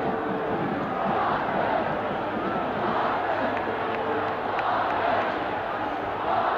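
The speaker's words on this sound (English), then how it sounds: "The Penn State student cheering section chants offense, offense." Crowd noise at a 1978 Pitt vs Penn State college football game, where the Penn State student section chants; a broad, steady stadium roar with faint rhythmic swells, distant and continuous without distinct words.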